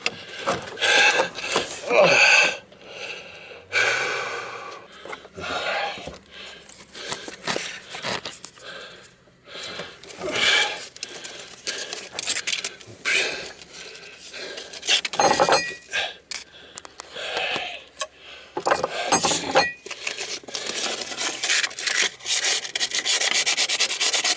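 A shaft part on a 1968 Bristol 32 Cutlass sailboat gets rubbed and sanded clean during bearing and packless shaft seal service. Rough scraping strokes come close and irregular, with occasional metallic clinks.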